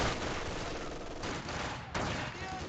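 Machine gun fire crackles in a strategy video game match as an MG in a building lays down suppression, a dense continuous rattle with a couple of sharper bursts, under commentary.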